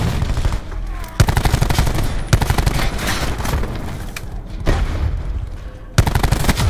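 Rapid automatic gunfire in Call of Duty Black Ops 4, loud and close, in dense bursts with a few sharp single shots cutting through and brief gaps between volleys.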